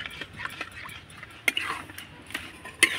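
Semolina dough is stirred continuously in a pan, giving soft, irregular scraping and occasional sharp clicks of a utensil against metal, faint and close with a light background hiss.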